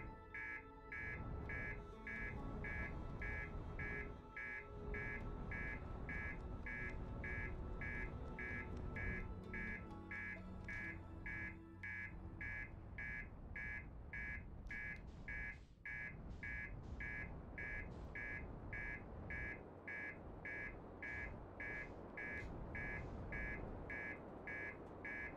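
Repeating electronic alarm from the video game Outer Wilds, a steady fast series of loud, evenly spaced beeps that runs without pause throughout, over low rumbling game ambience.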